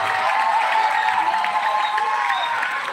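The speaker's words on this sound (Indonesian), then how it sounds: "Tepuk tangan buat sekolah kita." Students and guests at a junior high school religious lecture clap loudly together for their school, a dense steady round of applause from a large indoor audience with faint cheering mixed in.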